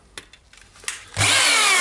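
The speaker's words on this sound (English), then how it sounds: "today on the table is the Hitachi rotary hammer" A Hitachi DH26PB rotary hammer drill, an electric model with drilling and percussion modes, starts up after quiet handling noises and then runs loud and steady at close range, with no talk over it.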